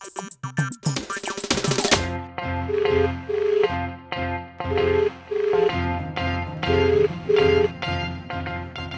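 A phone caller-tune plays while a call is being placed: after a brief burst of noisy sound, a repeating melodic ringback pattern sounds in evenly spaced phrases, loud and clear with no talking.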